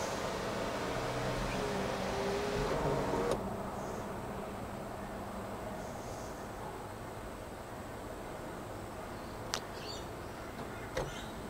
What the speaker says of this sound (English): it should go through and fully open and fully close, and that should initialize the sunroof